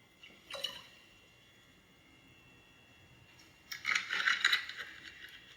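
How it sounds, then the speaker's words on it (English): A capful of Sprite poured into a glass of alkaline water: a faint splash and drip early on, quiet stillness, then a brighter, louder trickle and bubbling pour lasting about two seconds. "I'm going to take the Sprite and pour just 1 cap of Sprite in here"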